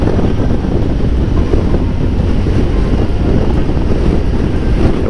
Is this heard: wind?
yes